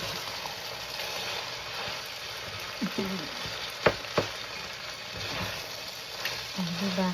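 Food frying in a pan in a home kitchen while being mixed, a steady sizzle with a few sharp stirring scrapes and clinks, some faint background voice near the end.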